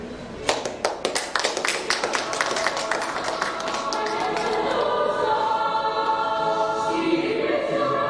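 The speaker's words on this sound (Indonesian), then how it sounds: "mari kita berikan tepuk tangan yang mulia untuk SMK Negeri 3 Komodo" An audience at a school inauguration for SMK Negeri 3 Komodo breaks into applause, scattered claps quickly building into a dense, sustained ovation that fills the room, with some voices mixed in.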